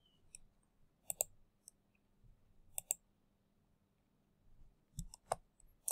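Sparse computer mouse clicks, crisp and close, come singly and in quick pairs against near silence, with a faint low hum beneath and no speech.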